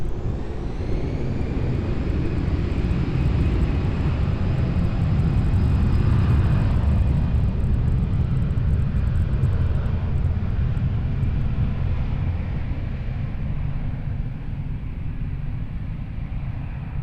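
An airliner takes off at Lisbon Airport, its jet engines roaring loud and sustained for a long stretch, swelling in the middle and easing slightly toward the end, with no voices.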